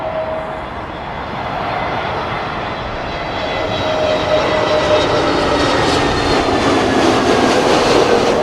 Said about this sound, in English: British Airways A320neo coming in from Athens